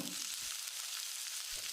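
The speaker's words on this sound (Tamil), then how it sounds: "வெங்காயத்தை நல்லா செவக்கிற அளவுக்கு வதக்கணும்" Onions sauté in a hot pan for a cauliflower masala, cooked until browned, giving a constant soft hiss and crackle with no voices, heard close up.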